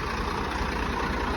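A tractor engine runs steadily nearby on a farm, a dense continuous rumble with no pauses.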